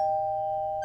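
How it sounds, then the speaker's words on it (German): A doorbell rings in a German children's audio drama: one steady, clear bell tone held for nearly a second, fairly loud and alone. "Erwartungsvoll steht er an der Tür, bis es klingelt."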